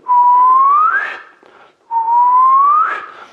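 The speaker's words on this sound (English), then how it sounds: "So if you take any note and whistle" One person whistles a sustained note twice in a flute lesson. Each note is loud and close, starts steady and slides upward in pitch before breaking off, with a short silence between the two.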